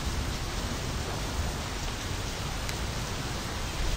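Steady rain in the My Summer Car video game falls as a constant broadband hiss, loud and unbroken for several seconds, with no voices over it.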